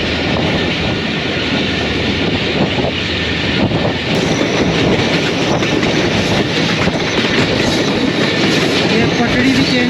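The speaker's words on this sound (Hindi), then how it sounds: "ये पटड़ी भी चेंज कर लिया ट्रेन ने।" A Badar Express passenger train running between Lahore and Sangla Hill, a loud continuous rumble of wheels on rails with rhythmic clatter as it crosses onto another track, heard from inside the moving carriage.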